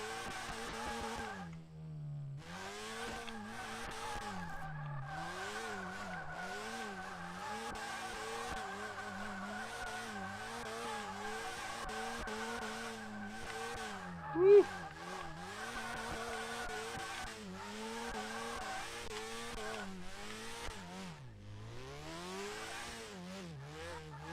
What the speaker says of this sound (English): So I figure we'll bounce it off the rev limiter a little bit here, give you guys a little preview